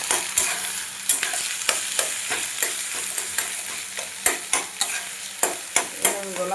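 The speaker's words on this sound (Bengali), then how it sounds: "এখানে ডিম ভুজিয়া হচ্ছে।" Egg bhujia sizzles in a pan while a spatula stirs and scrapes it, with sharp metallic clinks and scrapes recurring irregularly over a steady frying hiss, close and alone without talk.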